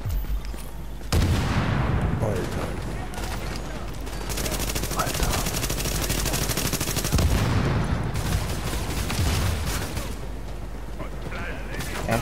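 Heavy gunfire from the video game The Division, with rapid bursts and booming shots filling most of the stretch, loud and sustained, mixed with game sounds while people talk over it.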